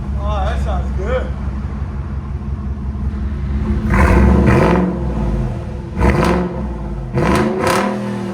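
A Ford Raptor with an aftermarket muffler idles with a deep rumble, then revs in several sharp bursts that swell loud and fall back, with a voice talking under the engine at the start.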